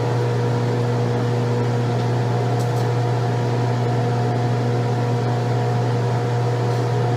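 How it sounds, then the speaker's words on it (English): A microwave oven runs a one-minute heating burst: a loud, steady electrical hum with constant mechanical drone and no voices, unchanged from start to finish. "microwave burst of 1 minute"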